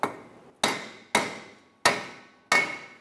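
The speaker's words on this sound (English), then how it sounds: "You can use a hammer and tap around the hat of the rotor to try and free up." A hammer taps around the hat of a rear brake rotor on a 2012-2016 Subaru Impreza: five sharp metallic knocks at an uneven pace, each ringing briefly, close and loud with no talk.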